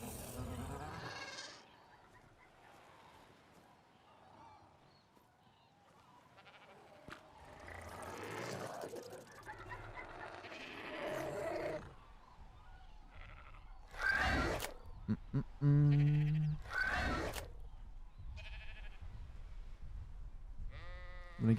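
Glowing aberration sheep in ARK Survival Ascended, in a singleplayer game on the Valguero map, bleat in several short bursts, mixed with game ambience and someone talking over them.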